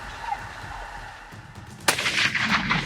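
A single sharp rifle shot rings out during a Cape buffalo hunt in South Africa, sudden and loud after quiet outdoor ambience with faint bird calls, followed by a lingering rumbling echo.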